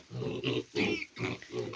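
Newly weaned piglets grunt and squeal in a close, busy cluster, several overlapping bursts coming in quick pulses with no talking.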